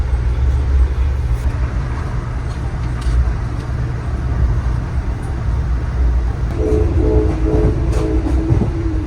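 A passenger train rolling along rails, a continuous low rumble with faint rhythmic clatter and a tonal squeal or horn-like hum rising near the end, heard from on board.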